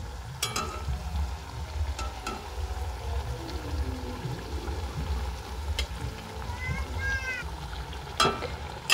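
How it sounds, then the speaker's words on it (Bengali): Raw potato snacks fry in hot oil, giving a steady low sizzle and bubbling throughout, with a few sharp clinks of a utensil turning them. "এরকম করে উল্টে পাল্টে আমি কিন্তু ভেজে নেব একেবারেই মুচমুচে করে"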